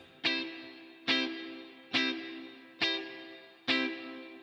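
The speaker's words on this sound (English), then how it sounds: "It's a nice plate reverb." Five evenly spaced plucked or struck tones, each blooming into a bright, lustrous plate reverb tail that decays before the next hit, without any spring reverb processing added.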